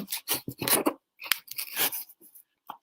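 Scissors snip through packaging in several quick, close cuts, with rustling pauses between them and one final short snip.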